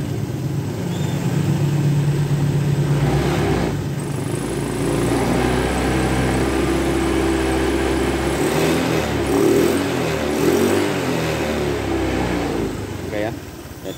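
A Honda Vario 125 scooter engine, which has a faulty speedometer sensor wire, runs steadily close by and is revved up and down. Talk comes through over the engine noise.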